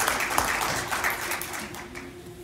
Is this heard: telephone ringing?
no